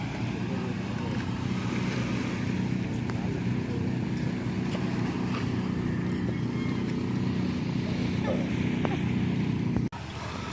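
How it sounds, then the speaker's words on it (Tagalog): Fishing boats coming in from the open sea toward shore in the morning, a steady low engine drone blended with wind and wave noise, constant and moderately near, with no talk. "tatlong bangka yung paparating galing sa ano"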